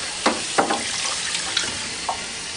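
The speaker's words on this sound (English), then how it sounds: "wipe down each component thoroughly, and then thoroughly rinse with clean water" Steady running tap water rushes throughout, broken by a few short splashy clatters as ice machine parts are rinsed under the stream.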